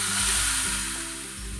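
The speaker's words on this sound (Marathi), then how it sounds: "आता आपण ही फोडणी जी केलेली आहे ही या डाळीवर घालून घेणार आहोत" Hot phodni tempering with asafoetida hits mango dal, a soft, brief sizzle and hiss while low thumps knock beneath it.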